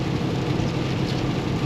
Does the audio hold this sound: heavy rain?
yes